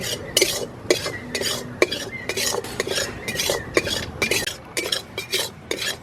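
Flour and semolina roasting in a pan, stirred with a spoon that scrapes and clinks against the metal in a steady, repeated rhythm up close, with no talking.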